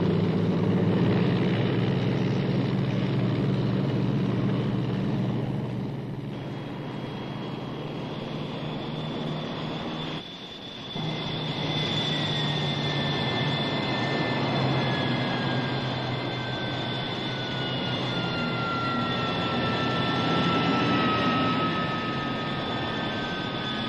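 Aircraft engines run up to taxi power before takeoff on runway 21 left in calm wind, a loud, steady, broadband roar with high whining tones that slowly shift in pitch, continuous throughout.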